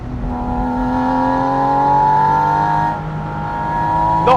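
A Porsche Boxster Spyder RS with its GT3 engine revs loudly and close, a thin, tinny note climbing steadily before briefly dipping and building again, ending in a sharp burst.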